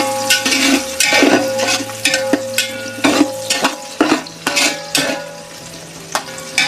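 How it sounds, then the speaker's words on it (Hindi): Two chopped onions browning in a cup of oil in a large pot, with a soft sizzle broken by repeated scraping and stirring clanks of a utensil against the metal, close and without talk. "प्याज को हम ब्राउन करते हैं।"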